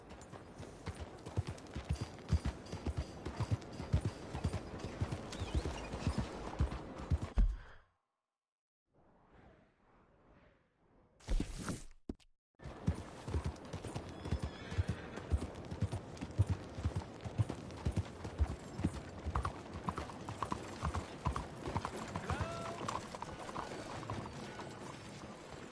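Horse hooves clip-clop in steady rhythm in Red Dead Redemption 2, close and clear, with a brief silent break midway before the trotting resumes; no talking.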